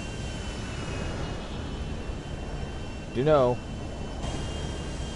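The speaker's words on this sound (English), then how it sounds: "Now you can hear my engines are going just into overtime" Engine drone of a Dakota plane flying in GTA runs steadily throughout, rising briefly in a strained surge near the middle, with a brief spoken voice in the mix.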